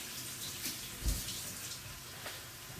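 Hands being washed under a running kitchen tap while cooking Omani chicken machboos, a steady, fairly quiet rush of water with a brief louder splash in the middle.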